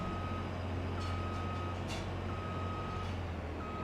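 Reversing beeps sound in a Farming Simulator 22 game as a truck backs out of a shed, with evenly spaced electronic tones over a steady low diesel engine rumble.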